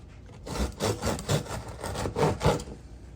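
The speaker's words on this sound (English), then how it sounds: "we're going to cut these into maybe 1/2-inch pieces. I'm gonna cut diagonally so they're longer." A knife saws diagonally through baked biscotti on a board, a series of close, dry rasping strokes in an uneven rhythm, each cut a short gritty scrape.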